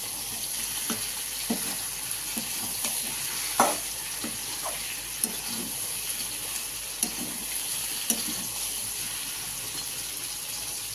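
Spice paste for a prawn curry sizzles and fries in a pan, a continuous frying hiss broken by occasional stirring scrapes and clinks against the pan, with no talking.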